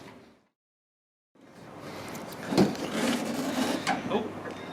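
Fabric of a Honda S2000 soft top tears and rubs as it is pulled off during a teardown, a rough scraping rip that starts after a brief silence and carries on for a few seconds at close range.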